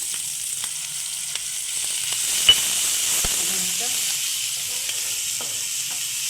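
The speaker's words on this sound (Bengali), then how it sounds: "এবার রসুন বাটাটা দিয়ে দিলাম" Garlic paste sizzles steadily in a frying pan with chopped green chillies and spring onion, a continuous close frying hiss with occasional stirring clicks and scrapes throughout.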